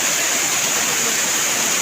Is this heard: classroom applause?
no